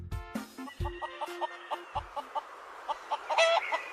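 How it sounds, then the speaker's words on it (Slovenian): A hen and her chicks on a farm: soft, rhythmic clucks repeat steadily, with a few thumps at the start and higher peeps near the end. "To so kokoška in njeni piščančki."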